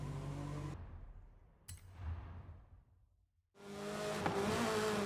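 1999 Lotus Elise engine in Forza Horizon 5 racing a tight track, revving hard, cutting off, then a faint whoosh before the engine roars back up loudly.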